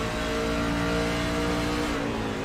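A Chevrolet Silverado race truck engine roars steadily at high revs on a track, loud and close, with a constant droning tone.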